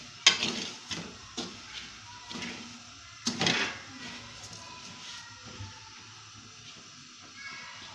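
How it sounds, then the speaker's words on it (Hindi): Sweet corn kernels roast in a pan while a spoon stirs them, giving a quiet sizzle broken by sharp scrapes and clinks of the spoon against the pan, spaced irregularly and close. "ये देखें, ये भूनना शुरू हो रही है अभी"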